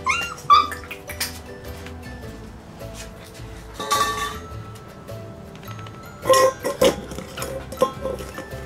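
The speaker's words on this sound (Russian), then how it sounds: "Гремят мисками, гавкают." German Shepherd puppies clatter and scrape metal bowls, with bursts of clinking at irregular moments and a few faint yips and whines mixed in, close by.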